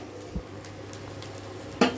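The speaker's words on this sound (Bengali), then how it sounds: "দেখো কত সুন্দর করে ভাজা হচ্ছে কম তেলে।" Stuffed tiffin snack frying in a little oil in a pan, a soft continuous sizzle with a couple of brief utensil knocks, close up and without talk.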